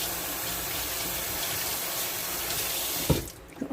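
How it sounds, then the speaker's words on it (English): Kitchen tap running full over hands being rinsed, a steady close hiss of water splashing into a sink, cut off abruptly near the end with a small clunk as it stops. "Rinse my hands off."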